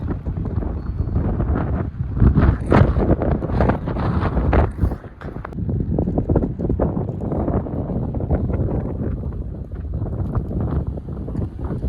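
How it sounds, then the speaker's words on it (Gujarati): Strong gusts roar and buffet the microphone in a continuous low rumble on a mountain road near Badrinath, rising and falling without letup, with no talking. "અત્યારે ભાઈ પવન ખૂબ છે, પવન ચાલુ છે"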